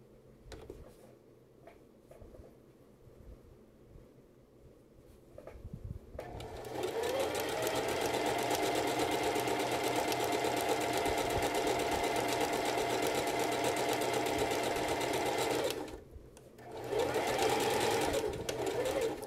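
Sewing machine stitching fabric for a dress pattern starts after quiet handling noises, runs in a steady mechanical whir for several seconds, pauses briefly, then resumes close by.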